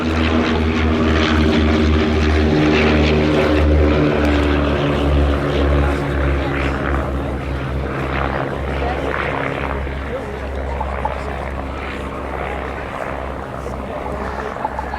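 A de Havilland Chipmunk propeller aircraft drones loudly overhead at an airshow, its steady engine hum and prop buzz filling the scene, with a commentator's voice heard over it.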